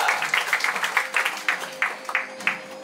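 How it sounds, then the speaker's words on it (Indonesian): Applause for a participant at an English and character camp in Depok, a group of people clapping in a quick, uneven rhythm with repeated bursts of hand claps, steady and fairly loud from start to finish with no voices over it. "Tepuk tangan untuk Iftirosi."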